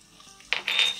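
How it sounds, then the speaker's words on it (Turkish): Spoon or spatula scraping and clinking against a pan while curry-spiced chicken is stirred, a few close metallic knocks and scrapes in a short burst, no talking. "Şöyle bir karıştırıyorum tekrardan."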